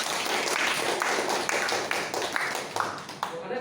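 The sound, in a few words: group applause at end of session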